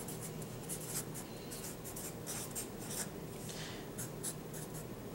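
A pen or pencil writes sentences on paper, faint close scratching strokes in quick bursts over a low steady background hum, no one speaking.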